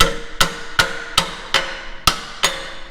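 A hammer strikes metal seven times at an even, steady pace, each blow sharp and ringing, close and loud, while hammering upside down on a rake, with no talking.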